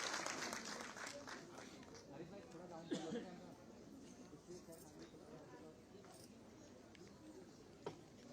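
An audience at a state women's award ceremony in Dehradun applauds a recipient of the Teelu Rauteli award with faint, distant clapping blended with murmuring voices and a presenter talking.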